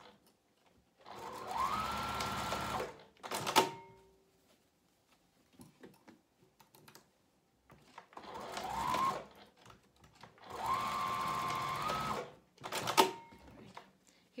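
Close sewing machine backstitching a pouch lining: bursts of steady motor whir with rising pitch, each followed by a short sharp clack, repeating over quiet gaps with small handling noises.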